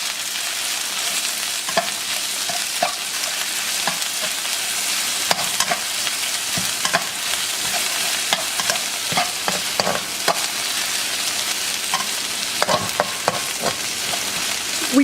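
Ginger, garlic and spring onion fry in hot oil in a wok, a steady bright sizzle broken by irregular scrapes and clacks of stirring, close and loud with no talking.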